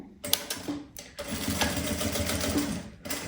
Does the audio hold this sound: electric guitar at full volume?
no